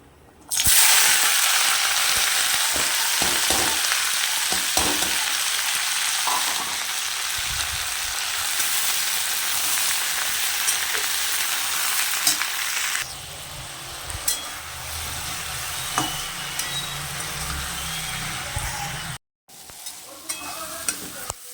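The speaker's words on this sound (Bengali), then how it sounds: "এবার এই কড়ার মধ্যেই আমি বরবটিটাকে ভেজে নেব।" Yardlong beans fry in a wok after a batch of potatoes, with a loud, continuous sizzle and spatter and occasional stirring scrapes. Partway through, the sizzle drops to a softer level, then cuts out briefly near the end.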